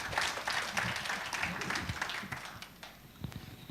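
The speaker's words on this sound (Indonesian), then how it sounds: "Yuk kita tepuk tangan dulu yang kenceng" A church congregation applauds during a sermon, the clapping loud and dense at first, then thinning and fading over a few seconds.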